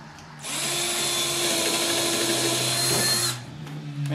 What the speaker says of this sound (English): I'm drilling these pilot screws